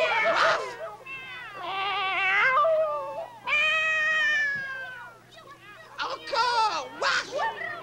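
Several children's voices imitate cats with drawn-out, wavering meows, in bursts of a second or so separated by short gaps, loud and close, with background hum underneath.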